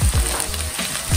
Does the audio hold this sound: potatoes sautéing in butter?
yes